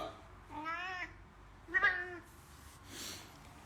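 A cat meows twice in quick succession, each call rising then falling, close and moderately loud, followed by a fainter high squeal; low rumbling background throughout.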